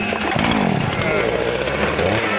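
A chainsaw roars in a 2004 horror-comedy film scene, loud and close, revving in uneven surges over a couple of seconds.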